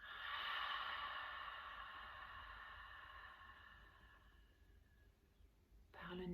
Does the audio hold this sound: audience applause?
no